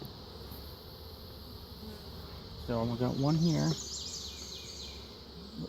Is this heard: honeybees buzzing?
yes